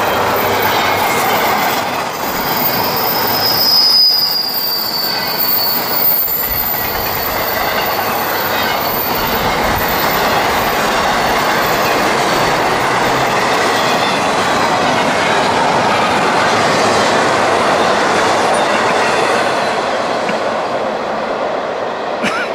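A CSX intermodal freight train rolls steadily past at close range, a loud continuous rumble of wheels and rail noise with occasional squeals lasting the whole stretch, no talking.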